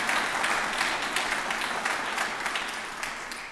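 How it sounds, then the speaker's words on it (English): Steady audience applause at a ribbon cutting for a city services complex, a dense wash of many hands clapping at fairly even loudness for several seconds, with no talk over it. "So let's give them all a round of applause and thank them."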